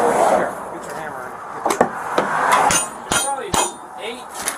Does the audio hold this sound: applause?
no